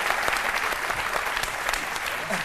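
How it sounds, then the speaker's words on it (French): A television studio audience applauds steadily, a dense wash of clapping hands throughout without pause. "On peut l'applaudir."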